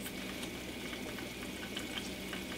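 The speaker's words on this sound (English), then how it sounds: "I can start to hear the sizzle sound" Oil sizzles and crackles in a pan over medium heat, a soft steady frying hiss with small pops, heard alone at close range.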